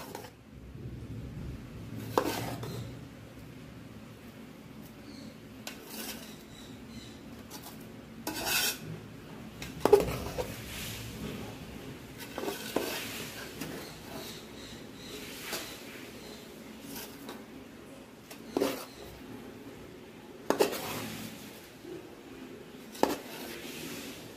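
Fried rice made from simple home ingredients being turned over with spices in a pan, giving faint scraping and light clinks of a utensil on metal at an uneven pace, with a few sharper knocks and no talking.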